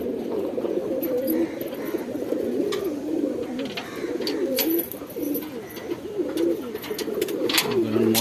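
Pigeons in a home loft in Hemayetpur coo steadily in low, rolling, overlapping calls, close by, with a few brief rustles.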